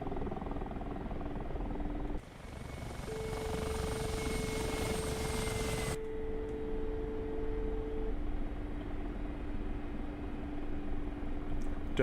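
A Mi-24P Hind helicopter in the DCS flight simulator drones with a steady rotor and turbine hum, swelling into a broader rushing roar for a few seconds before settling back to the constant engine tone.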